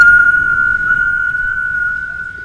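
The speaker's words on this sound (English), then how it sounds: "That was a beautiful whistle." A crafted whistle is blown once in a single sustained, steady, clear tone lasting a couple of seconds, loud and close, as a call to a creature.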